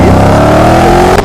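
A 2013 Dodge Challenger SRT8 V8 muscle car heard from outside, a loud, rich engine note holding and rising steadily, then dipping briefly at the end.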